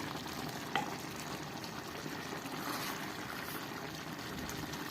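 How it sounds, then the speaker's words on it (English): Rice pilau with chicken is stirred from the edge of a pot as the cooking water reduces, a steady wet bubbling and soft scraping hiss, close and continuous, with one brief sharp tap early on. "When you can almost see the rice, stir it from the edge of the pot"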